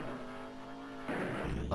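Cars race in the Commodore Amiga game Roadkill, with a steady droning engine tone that gives way to a louder, rougher burst of revving and skidding noise near the end, with no talk.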